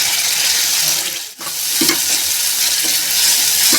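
Fresh green peas sizzle loudly in a pan as a spoon stirs and scrapes them. The hiss drops out briefly near the start, then the frying resumes with several close scraping strokes.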